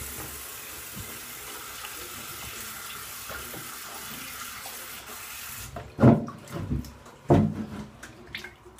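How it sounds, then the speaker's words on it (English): Running tap water rinses alum off the face after a shave; a steady low water hiss gives way to two louder splashing bursts near the end. "let me rinse this alum off."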